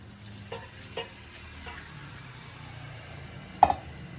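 Prawns fry in a pan as tamarind juice is added, giving a faint, steady sizzle. A few soft utensil taps sound early on, then one sharp clink stands out near the end.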